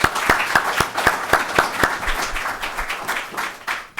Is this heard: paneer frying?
no